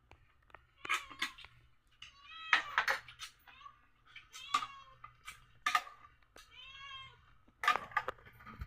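A cat meows repeatedly and close by in a home kitchen where bamboo shoots are being cooked, its calls rising and falling in short bursts between light clinks of dishes and utensils.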